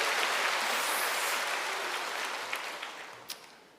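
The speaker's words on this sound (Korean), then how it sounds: "박수" An audience claps at a church women's retreat worship service, a dense wash of applause that slowly fades away with a few stray claps near the end.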